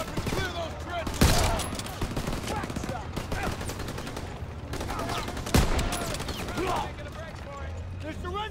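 Rapid gunfire in the Call of Duty: WWII trench-clearing battle, continuous bursts of rifle and machine-gun fire with two sharp louder shots standing out, dense and close throughout.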